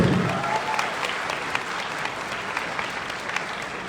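Louder audience applause at a quiz prize-giving ceremony, a dense and steady round of clapping from a crowd throughout, with little talk over it.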